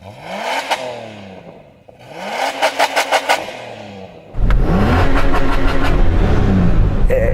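Nissan Patrol engine revved repeatedly up to the rev limiter, each rise ending in a rapid stuttering bounce off the limiter, then a sustained loud roar close by.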